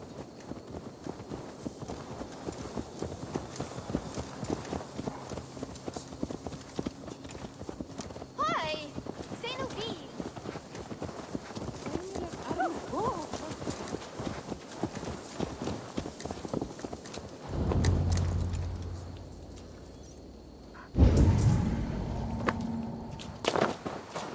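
Rhythmic hoof clip-clops of a horse walking in the video game Assassin's Creed Valhalla continue steadily under a man's speech and background music, then stop as a low rumble and a new ambience take over.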